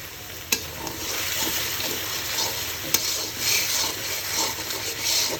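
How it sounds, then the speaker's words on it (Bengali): Spice paste with turmeric and salt is stirred and fried in a pan, giving a continuous soft sizzle with scraping strokes and a couple of sharp spoon knocks, close and alone. "এবার মশলাটা খুব ভালো করে কষিয়ে নেব।"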